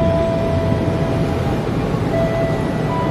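Steady low rumble of a 10-car KRL commuter train idling at Matraman station platform, with a faint tonal whine, no voices.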